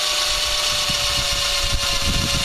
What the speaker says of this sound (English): It's cutting good. If the damn drill battery holds up.